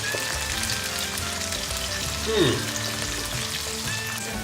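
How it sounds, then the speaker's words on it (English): Onions brown in a frying pan with a dense, steady sizzle and crackle close up, plus a brief scraping stir near the middle. "Okay, so the onions are now browning."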